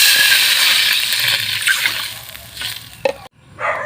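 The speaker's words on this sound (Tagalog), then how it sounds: "Una, lagyan natin ng tubig." Water pouring into a cooking pot for goby fish sinigang, a bright, rushing splash that gradually eases, followed by a short clatter, a brief pause and another burst of pouring.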